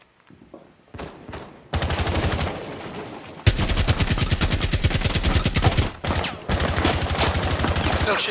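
Rapid automatic gunfire in the Rainbow Six Siege Coastline hostage mode, Operation Para Bellum, loud sustained bursts with dense repeated shots, brief pauses between strings, a few scattered single shots at the start.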